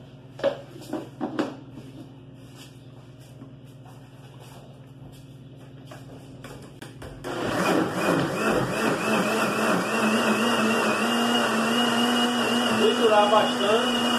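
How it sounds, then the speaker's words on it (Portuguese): An electric blender whirs at full speed, blending neem extract with about a liter of water, a loud steady roar starting midway after a stretch of quieter handling noise and a few knocks. "bater no liquidificador."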